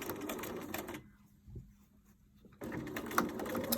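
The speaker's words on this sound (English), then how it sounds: "sew that gap closed" A sewing machine runs in steady close whirring bursts along the edge of a fabric pouch to close its gap, with a quiet pause in the middle before stitching resumes.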